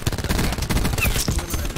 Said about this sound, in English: Hostile thresher commencing attacks